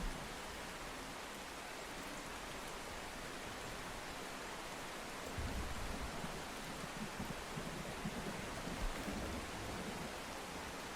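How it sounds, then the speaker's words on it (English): Heavy rain pours steadily during a tornado storm chase, a dense, continuous hiss that swells slightly louder about halfway through, with no voices. "Rain here is too heavy for us to really tell where it is."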